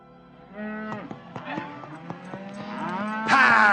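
Cattle mooing during a ranch roundup in a Western audio drama, several overlapping drawn-out lows from nearby animals, growing louder toward the end with no talk over them.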